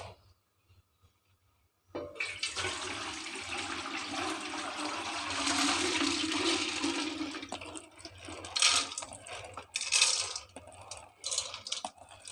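Water draining from soaked wheat through a sieve makes a steady close rush and trickle for several seconds, thinning into scattered drips and splashes, with no talking.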